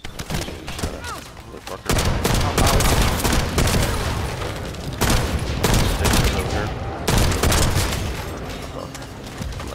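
Gunfire from a scout rifle in The First Descendant, a dense run of loud, sharp shots in bursts over about ten seconds, with a brief quieter stretch early on and someone talking over the firing.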